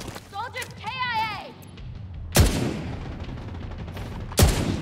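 Two sharp, loud sniper rifle shots crack out in The Division 2, each with a ringing tail, spaced about two seconds apart, while voices chatter over battle noise before the first shot.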